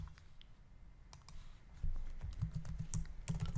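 Quiet, close-up typing on a computer keyboard while code is written for a pytest test, with irregular clicking keystrokes that get busier toward the end.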